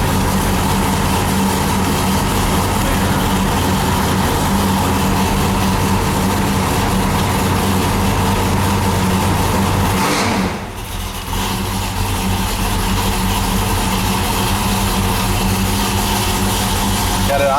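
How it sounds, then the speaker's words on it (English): An Oldsmobile Cutlass with a swapped engine idles steadily at about 850 RPM on a cold start, a loud, continuous low rumble and drone that holds even throughout, with a brief dip partway through. "Got it idling about 850 RPMs right now."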